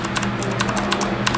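Rapid clicky keystrokes on a Cooler Master mechanical keyboard with green switches, a steady run of close, crisp taps with no talking.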